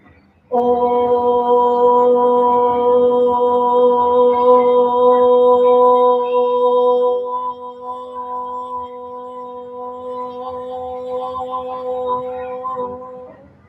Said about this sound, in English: when we exhale, we're going to say an O sound. So a long O